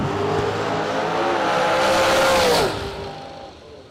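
Drag racing car making a solo run down the strip at a fall drag race event, a loud engine roar rising in pitch, then fading as the car pulls away, with no talking.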